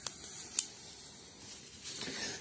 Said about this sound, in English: it will certainly cut paper.